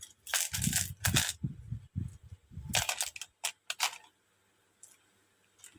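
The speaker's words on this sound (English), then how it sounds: "Now, to screw it to my servo, I'm going to need the screws that came with the servo. Just dump it in there." Small servo screws for a Tamiya Grasshopper model build are dumped out, giving a quick cluster of light clattering and rattling ticks that fades into a few faint taps.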